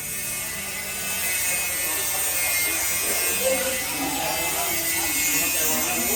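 A Thai-made engine in a converted eight-wheel truck at a repair garage gives a steady, even mechanical hum and whir close to the microphone, with someone talking over it.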